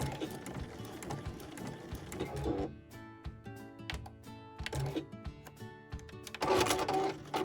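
A sewing machine stitches fabric appliqué in a fast mechanical whir of rapid repeated needle strokes, slowing and stopping with short pauses before running again, close and moderately loud.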